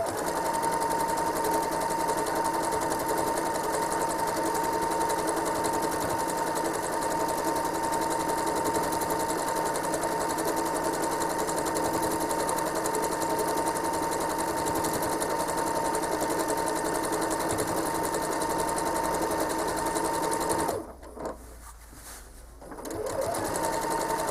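Home sewing machine stitching a quilt, a steady close whirring hum running continuously for about twenty seconds before stopping abruptly near the end.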